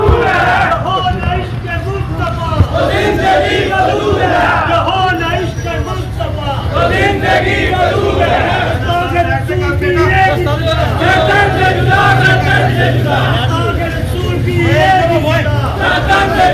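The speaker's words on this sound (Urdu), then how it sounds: "آگے سے وہ مسلم لوگ آ رہے ہیں اور نعرے لگا رہے ہیں" A large crowd of Muslim people on the street chanting slogans, a dense, loud roar of many voices with steady low rumble, continuous and close throughout.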